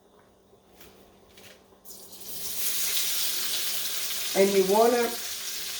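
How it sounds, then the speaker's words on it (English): Chopped medium onion hits leftover bacon grease in a skillet, bursting into a loud, steady sizzle that holds close by, with someone speaking briefly before and over it. "we have leftover bacon grease in the skillet. To that, I'm going to add 1 medium onion."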